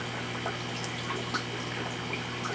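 Aquarium water from a 65-gallon tank driven by a sump pump into a sink, a steady close rush and trickle with a constant low pump hum underneath, no voices.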